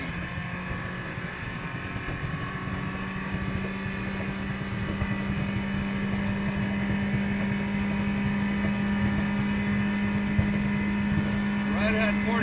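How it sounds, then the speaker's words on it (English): A 1994 Alumaweld 18-foot Intruder boat runs at speed, its outboard motor a steady, loud drone mixed with wind and water rush, and a voice talking over it. "Right at 45 miles an hour, the boat is very quick."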